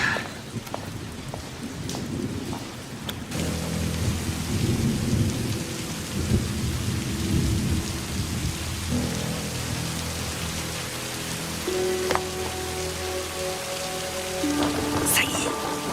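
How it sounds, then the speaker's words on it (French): Heavy rain pours down steadily in a downpour, with thunder rumbling low and continuous beneath it and a few sharper cracks partway through. "Non mais quel déluge!"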